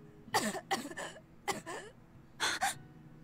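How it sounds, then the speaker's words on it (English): A character in the Tales of Berseria video game coughs several times in short bursts, close and fairly quiet, with brief pauses between the coughs. "You coughed a few times?"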